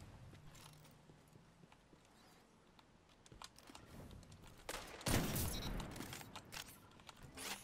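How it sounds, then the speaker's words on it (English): Gunfire from a fantasy survival video game, with scattered clicks and a burst of sharp, loud shots around the middle followed by more clattering impacts, heard alone with no speech. "I shoot again."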